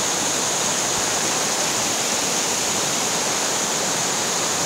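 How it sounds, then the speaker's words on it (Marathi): A strong spring stream in the Konkan countryside rushing and gurgling over rocks, a dense, loud, unbroken roar of flowing water heard up close without any voices. "मी बघत आहात किती जोरदार पाणी ते वाहत आहेत, खळखळ असं पाणी वाहत आहे।"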